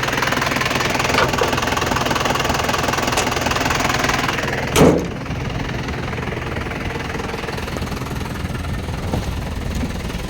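Isuzu TFR pickup with a 90 HP engine running steadily, a constant close rumble with a brief louder burst near the middle and no talk.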